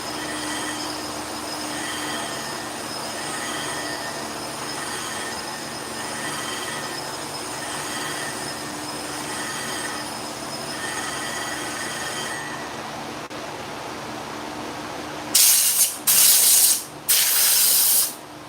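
A clipper blade is sharpened on a grinding plate with a steady whining hiss and faint tonal ringing. Near the end come a few short, much louder grinding bursts, with no talk.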